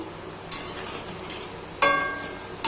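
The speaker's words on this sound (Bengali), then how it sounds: "বড়াগুলো এই যে ভাজছি" Banana flower fritters fry in a pan with a low, steady sizzle, broken by four sharp metallic scrapes and clinks of a spatula against the pan, close and moderately loud, with no talking.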